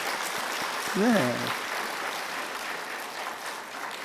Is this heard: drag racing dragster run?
no